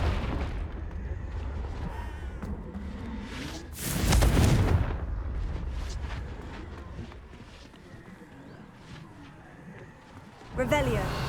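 Confringo blasting spell explosions in Hogwarts Legacy, a heavy booming blast with rumbling tail in the middle, another sharp burst near the end, amid running footsteps and a spoken spell incantation.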